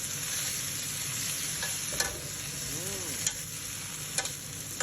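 Chinese kale stir-fried in a wok, a steady broadband sizzle with a few sharp scrapes and clinks of the spatula against the metal, close and moderately loud, with no talking.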